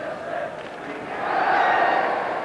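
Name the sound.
football crowd at the Dell stadium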